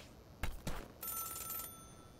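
A telephone rings high on a mountain in the video game Celeste, two short bell strikes followed by a longer trilling ring, faint and alone.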